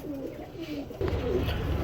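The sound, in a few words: Giribaj pigeons cooing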